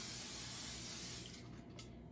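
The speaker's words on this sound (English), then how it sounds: "we're going to spray a tiny bit of oil onto our pan" A short, close burst of cooking oil spray hitting a pan, a steady broad hiss for about a second and a half that then sputters and fades.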